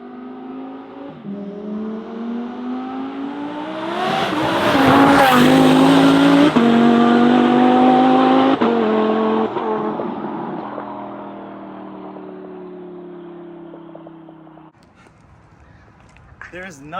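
Twin-turbo Lamborghini with modified engine and loud exhaust makes a full-throttle flyby, its engine note swelling from a steady drone to a roaring, close peak, then fading away, with talk over it.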